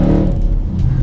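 Supercharged Roush Ford Mustang 5.0 V8 GT, modified to over 700 bhp, rumbles loudly and close with a deep, throbbing idle burble and light crackle, steady throughout.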